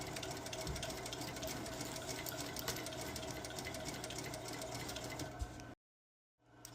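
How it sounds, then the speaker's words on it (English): A sewing machine stitches a seam line with a back tack while a modern sukajan jacket is being made. It gives off a steady, close, busy mechanical whir for several seconds, then stops abruptly into silence. "we're just going to sew right down this seam line to start"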